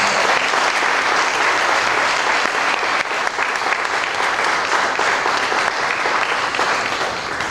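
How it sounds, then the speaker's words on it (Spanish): A church congregation gives sustained, dense applause during a Sunday morning service, steady and loud for the whole stretch with many hands clapping together. "hoy queremos darle un aplauso a la persona más importante en este lugar"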